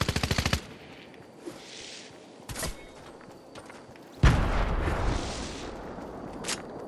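Gunfire in the video game Fortnite: a rapid burst of automatic shots up front, a few isolated loud reports later, and a heavier blast with a rumbling tail near the end, set against quiet game ambience.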